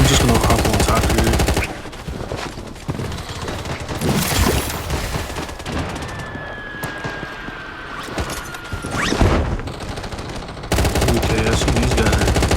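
Gunfire in a shooter video game, dense automatic bursts rattling loudly at the start and end, with sparser, more distant shots and a faint whine in between.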